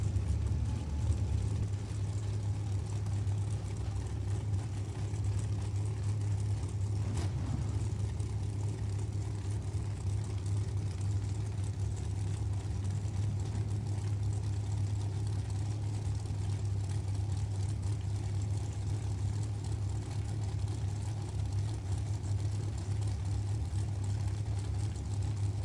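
A dragster engine at Maple Grove Raceway during an NHRA Lucas Oil Drag Racing Series event, a steady low engine drone heard at a distance, holding an even level throughout with no clear revving.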